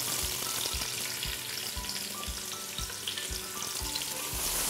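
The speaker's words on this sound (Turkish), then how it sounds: "Sıvı yağımı tencereye koyduktan sonra şimdi soğanları ekliyorum" Chopped onions frying in oil in a pot give a dense, steady sizzle and crackle, close and fairly loud, with faint rhythmic stirring or tapping underneath and no voices.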